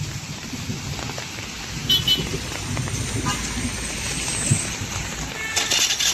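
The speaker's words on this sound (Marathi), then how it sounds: "एवढा जोरात पाऊस आहे आपल्या इथं." Heavy downpour in Baner-Balewadi, Pune, a dense, constant hiss of rain pounding surfaces with brief louder bursts and a faint vehicle toot partway through.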